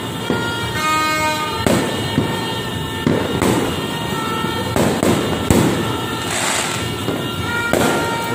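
New Year fireworks bang repeatedly in a steady series of sharp bursts, fairly loud and close, with faint horns and voices in the background.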